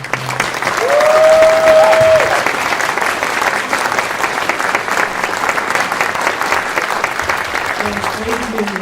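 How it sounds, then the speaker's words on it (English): Steady applause from a sizable crowd at a university music department graduation ceremony fills the whole stretch, with a brief tonal note early on and cheering voices faintly mixed in. "but let's also give a big round of applause to Professor Coffey."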